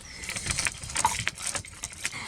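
Keys jangling and clinking as a salon door is unlocked, a series of bright metallic rattles close by with no talking.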